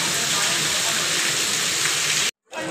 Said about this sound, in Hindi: माशाल्लाह बारिश काफ़ी ज़्यादा हो चुकी है, पानी दरिया बन चुका है।